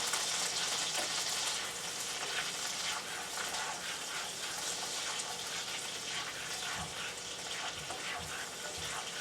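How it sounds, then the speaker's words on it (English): Garlic frying in a pan gives a continuous, fairly faint hiss and crackle that stays even and steady with no talking. "So I put the garlic in like that"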